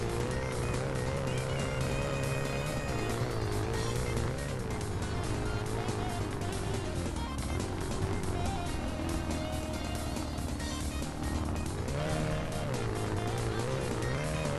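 Turbocharged Toyota Celica engine in the BeamNG driving game, making 258 horsepower on 12.5 psi of boost, revs loudly and steadily throughout, its pitch rising and falling with throttle under continuous engine and road noise.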